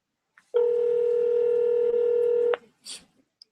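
A telephone emits a single sustained dialing tone lasting about two seconds, loud and clean, followed by a brief faint click and a short muffled sound afterward.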